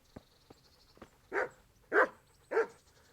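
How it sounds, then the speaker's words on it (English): A dog kept by a merchant woman in Rattay in Kingdom Come: Deliverance gives three sharp, evenly spaced barks near the end, after a few faint clicks. "She also has a dog."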